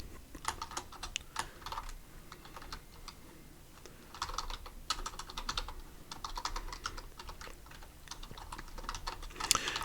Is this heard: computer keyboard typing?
yes